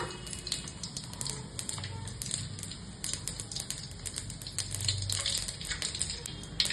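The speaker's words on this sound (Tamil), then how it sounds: "கடுகு பொரிஞ்சிச்சு" Mustard seeds, fenugreek and cumin sputter and crackle in hot oil in a pan, with dense rapid popping that continues steadily close by.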